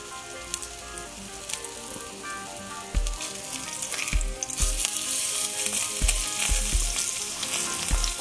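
Cajun-seasoned tuna sears in a very hot pan with a steady, loud sizzle and crackle, broken by sharp knocks and scrapes as the fish is turned onto each side.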